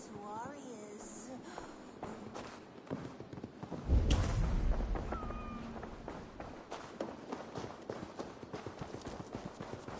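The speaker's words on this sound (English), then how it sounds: "I never thought the meow of cats could soothe my soul." Cats meow in Assassin's Creed Valhalla amid game sounds, a few short cries early on, then hoofbeats, footsteps and a heavy rumble, with speech running throughout.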